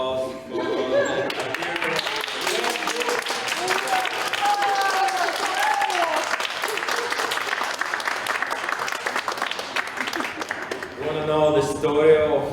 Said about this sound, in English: I want your applause for